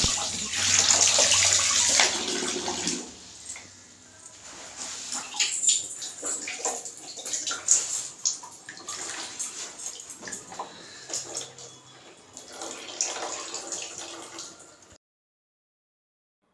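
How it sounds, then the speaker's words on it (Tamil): Water sloshes and splashes in a bucket as a silk saree is rinsed by hand, with bursts of swishing and dripping that come and go over several seconds before ending abruptly in silence. "2 சைட்லேயும் நல்ல தண்ணீர் போட்டு வாளியில் ஒரு 3 தடவை நன்றாக"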